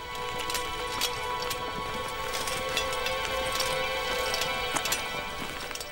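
Many horses' hooves clop steadily along a narrow path as part of a marching ancient army, a dense continuous clatter over a constant background wash.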